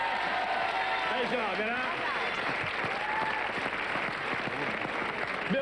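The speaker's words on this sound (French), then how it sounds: "J'aimerais qu'on l'applaudisse avant" Audience applause for Gérard before a blindfolded game on a stage show, a sustained round of clapping from a crowd with a voice talking over it.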